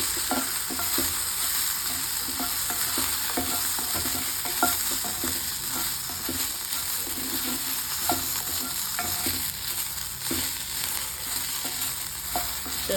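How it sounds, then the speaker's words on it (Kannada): Turkey berries frying fast in a little oil, a continuous close sizzle with repeated stirring scrapes and taps throughout, steady and moderately loud with no voices. "ಈ ಥರ ಇವಾಗ ಫಾಸ್ಟಾಗಿ ಫ್ರೈ ಆಗುತ್ತೆ. ಇವಾಗ ಫಸ್ಟು ಡ್ರೈ ಫ್ರೈ ಮಾಡ್ಕೋಬೇಕು."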